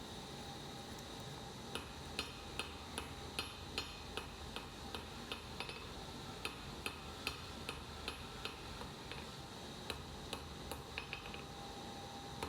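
Hammer blows forging a steel hidden-tang hunting knife blade, a string of sharp metallic taps ringing at irregular intervals over steady background noise, fairly faint and without talk.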